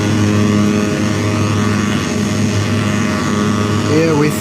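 Handmade Metsään Dirty Drone Defrost stereo noise generator holds a loud, dense, continuous engine-like drone that barely changes for several seconds, with a brief warbling tone sweeping in near the end.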